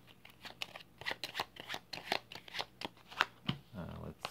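Cards of the pantry deck being shuffled by hand during a solo card game, a rapid run of crisp riffling flicks that ends in a short rustle, close and fairly quiet, with no talking.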